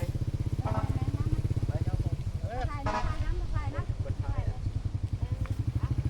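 A motorcycle idling and rolling close by with a steady, low putter that runs the whole time, while people chat over the engine.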